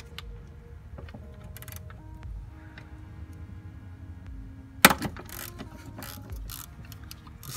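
Ratcheting clicks and metallic tool sounds from removing 10 millimeter bolts on BMW E46 M3 S54 individual throttle bodies, with a sharp clatter partway through, all fairly quiet and close.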